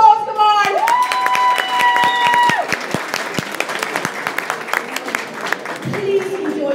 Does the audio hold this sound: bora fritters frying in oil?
no